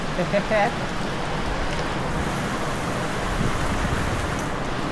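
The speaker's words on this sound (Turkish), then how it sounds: "Bu şiddetli sağanak yağmurun habercisi." Steady, dense heavy rain pours down continuously on an evening in Marmaris, a loud hiss of downpour with a brief voice near the start.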